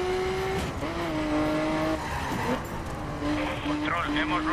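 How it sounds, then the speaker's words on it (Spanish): A police car spins out in the driving game The Crew, its tires squealing in wavering pitched streaks over a steady engine roar, with someone talking over the racket. "Vale, otro coche de policía haciendo por ahí un trompo."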